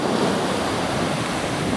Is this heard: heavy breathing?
no